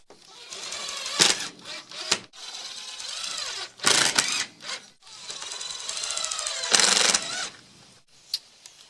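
Drill driving screws into chicken coop roofing panels: several whirring bursts of a few seconds each, close and loud, separated by sharp clicks and brief pauses.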